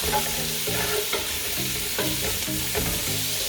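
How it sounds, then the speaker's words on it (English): Chopped carrot and beans stir-fry with onions in a pan for chilli garlic noodles, a loud, close sizzle broken by repeated rhythmic scraping of the spatula, with no talk. "We will add chopped carrot, beans, and stir fry."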